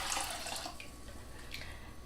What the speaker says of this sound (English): I'm going to put 1 cup of water